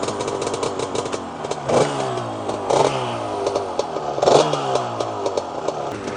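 Targa Twin 275 scooter engine running with the choke on, revving hard and close in repeated rising bursts over a raspy, clattering idle, with no voices.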